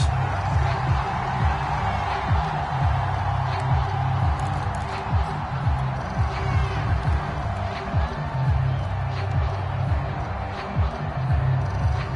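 A stadium crowd before a Green Bay Packers vs Chicago Bears football game makes a steady, dense roar of cheering and chatter that holds at an even level throughout, with no single loud peak.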